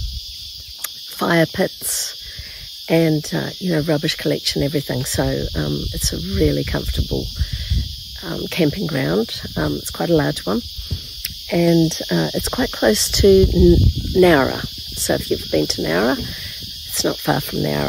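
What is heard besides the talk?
cicadas chirping at a campground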